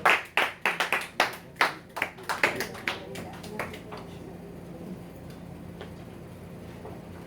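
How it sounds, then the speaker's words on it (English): Audience applause for a poet at a live poetry fundraiser: a burst of sharp, distinct claps that quickly dwindles into scattered, fading hand claps and then near quiet. "let's give our sister Burn a Flame another warm round of applause"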